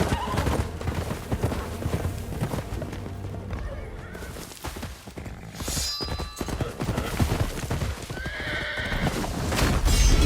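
Horses neigh and whinny with galloping clip-clop hooves during a jousting event in the film Gladiator II, loud and busy amid a dense battle score and crowd noise, with brief shrill whinnies standing out near the end.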